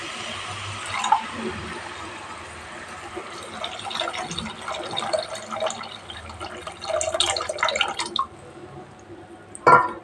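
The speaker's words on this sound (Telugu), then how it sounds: "ఇవన్నీ ఒకసారి కలిపేసిన తర్వాత ఇప్పుడు చింతపండు రసం వేస్తున్నాను." Tamarind juice is poured into a fish curry, with soft splashing and trickling liquid, scattered drips and light clinks of utensils, and one louder clatter near the end.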